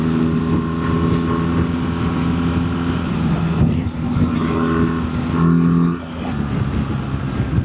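A BMW GS1300 motorcycle accelerates hard through the gears, its loud engine note rising and dropping with each shift over steady wind roar.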